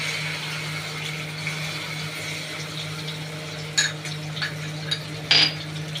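A spoon stirs a spice tempering in a pan on a gas flame, making a few light metallic clinks and scrapes over a steady background hum.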